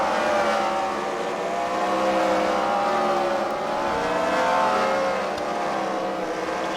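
Race cars battling for position on a dirt track in a fight night event, a steady loud roar of several engines blending together, distant crowd-like wash, continuous throughout.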